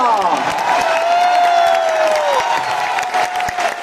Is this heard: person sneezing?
no